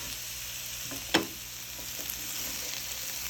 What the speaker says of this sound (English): So you want to just kind of saute them until they get soft.